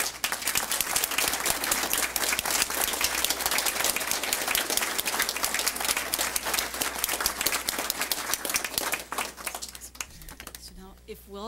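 An audience at a school board meeting applauds swimmers' parents, steady sustained clapping from a roomful of people lasting over ten seconds before thinning out near the end.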